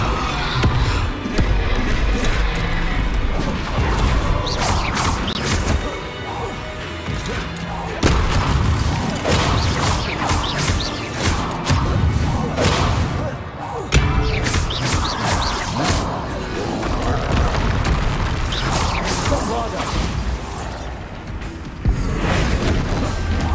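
Repeated Bombarda blasting spell explosions in Hogwarts Legacy, a string of heavy booms and crashing impacts over a dense, busy game soundscape with other spell effects, loud and close throughout.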